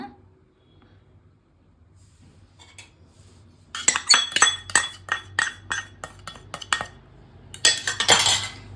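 Coconut oil and castor oil being mixed in a bowl: after a near-silent start, a close burst of rapid spoon clinks and scrapes against the bowl, then a brief pause and a harsher scraping flurry.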